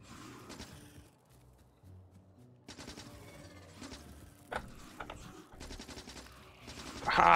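Gun turrets fire at spitters in the video game Factorio, a rapid rattle of automatic fire in several bursts over a low mechanical background, with no talk.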